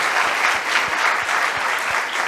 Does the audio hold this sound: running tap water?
no